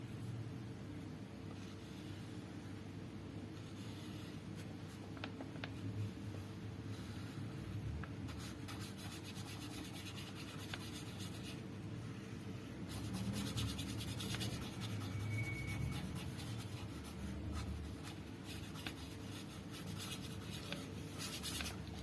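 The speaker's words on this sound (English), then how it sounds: "First we use black color and now we draw the shape of square." Marker or crayon in black colour draws a square on paper, giving soft continuous rubbing and scratching strokes that swell and fade at close range over a faint background hum.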